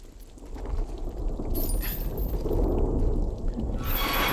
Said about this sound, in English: Yep, there's thunder in the, in the distance.